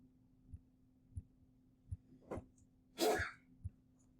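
A single short, bursting sneeze at close range around the three-second mark, set apart from several soft low thumps in an otherwise quiet room.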